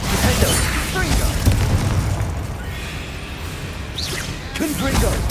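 Confringo blasting spell explosions in the video game Hogwarts Legacy, loud booming bursts and whooshes layered over dense combat noise, with short shouted words from the player between blasts.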